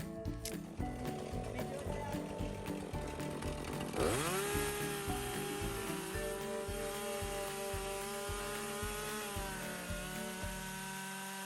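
A chainsaw snarls loudly close by, revving and bogging down as it bites through hard oak firewood, its engine pitch rising and settling under load.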